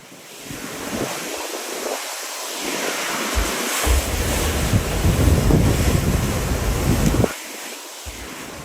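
Storm-driven ocean surf pounds the Outer Banks coast of North Carolina during Hurricane Erin, a loud continuous roar of crashing waves swelling toward the middle, with heavy wind buffeting the microphone throughout.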